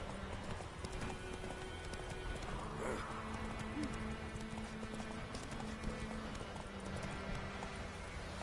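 A horse's hooves clip-clop at a gallop in the Witcher 3 game, a fast repetitive pattern over a steady background with an occasional whinny-like tone, moderately faint, no speech.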